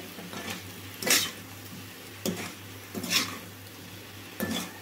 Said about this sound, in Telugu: 1 నిమిషం పాటు అయితే మాడకుండా కలుపుతూనే ఉండాలండి.